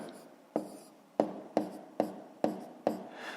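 Handwriting strokes on paper as numbers are written out for a subtraction problem: six separate scratchy pen strokes, evenly spaced, close and moderately loud, with no talking.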